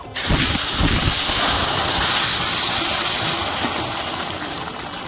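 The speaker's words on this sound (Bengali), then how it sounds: "তেলের মধ্যে অল্প একটু লঙ্কার গুঁড়ো দেবো কালারের জন্য এবার আমি তরকারিটা ঢেলে দেবো" Curry is poured into hot oil seasoned with a little chili powder, setting off a loud, sudden burst of sizzling that settles into a steady, close hiss and slowly fades.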